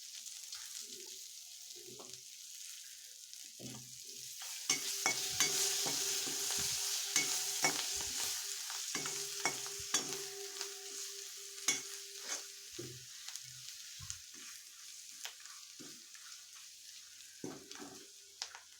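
Red pumpkin sautéed in a pan gives a soft sizzle alongside repeated scraping and stirring clicks. The sounds are close and moderately quiet, and there is a sustained tone in the middle.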